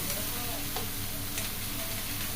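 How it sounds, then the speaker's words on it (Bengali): Pasta pieces frying in hot oil give a steady, dense sizzle with light stirring scrapes, close and continuous, no voices. "তো এই দেখো আমি তেলেতে ছেড়ে দিয়েছি, ভেজে নিয়েছি।"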